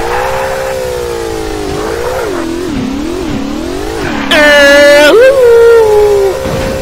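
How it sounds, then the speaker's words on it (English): Junk car driven in the Garry's Mod video game, a loud whining engine that rises and falls through several rev swells before a sharp high screech takes over near the end, with no voices over it. "Let's drive a junk car down, because you know why we can."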